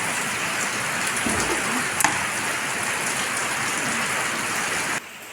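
Steady, heavy rain hisses continuously, then cuts off abruptly near the end.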